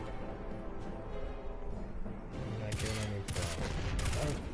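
Gunfire in the video game Destiny 2 comes as bursts of rapid shots, growing denser toward the end, over a steady game background.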